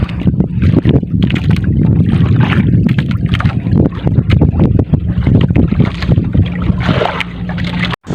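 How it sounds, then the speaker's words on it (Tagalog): Steady moderate wind at sea buffets the microphone over the low rumble of a fishing boat engine, a constant, loud roar throughout. "katamtaman lang yung hangin natin ngayon"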